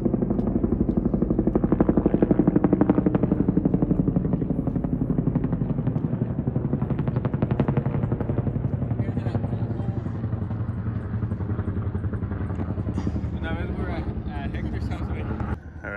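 A helicopter near a trout fishing spot at Balch Park, picking up water for a nearby fire, gives a loud, close, continuous rotor chop and engine drone, with people talking over it.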